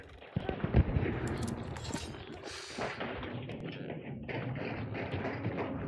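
Shotgun and pistol gunfire in the video game Hunt: Showdown, several sharp booming shots with echoing tails in a noisy outdoor scene, with someone talking over it.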